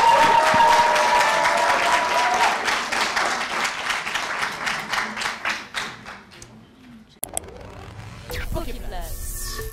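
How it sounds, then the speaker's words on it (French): An audience at a screening event gives a big round of applause for the final team, loud clapping that thins into scattered, slowing claps before fading, followed by other sounds. "je vous demande de faire un tonnerre d'applaudissements pour la dernière équipe qui va passer"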